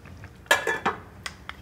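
A utensil stirs pears cooking down with cinnamon in a pot, giving a few close clinks and scrapes against the pan, with quiet gaps between strokes.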